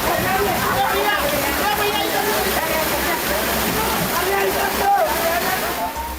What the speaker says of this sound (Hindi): अब इस बाइक को देखिए, पानी में कैसे बह रही है